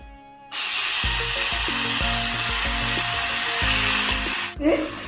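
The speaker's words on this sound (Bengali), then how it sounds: "তেলটা গরম হয়ে গেছে এবার আমি এর মধ্যে প্রথমে আমের ঝুড়িগুলো দিয়ে দেব" Grated green mango hits hot oil and sizzles with a sudden loud, steady hiss that starts after a brief quiet moment, with a low tonal hum underneath, before cutting off near the end.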